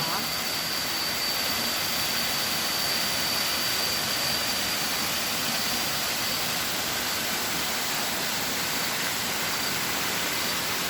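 Waterfall at Wat Tham Pha Daen roaring as a steady, loud broadband rush that fills the whole stretch without a break, heard from nearby.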